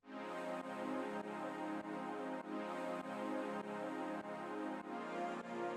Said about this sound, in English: This one's kind of like a pad.